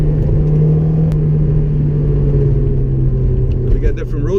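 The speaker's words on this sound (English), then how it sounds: "Make sure there's no changes in the way the engine is revving and the way it's idling." A Honda S2000 engine hums and revs steadily during a test drive on a road with bumps and construction, a close, continuous drone with a voice speaking over it.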